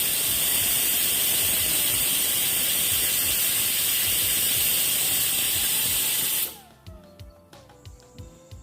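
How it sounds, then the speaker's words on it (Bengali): A pressure cooker full of mutton and potatoes whistles loudly and steadily with a hissing steam jet for about six seconds, then cuts off abruptly, leaving faint clicks and rattles. "প্রেসার কুকারে 6 থেকে 7টা সিটি দিয়ে নেব"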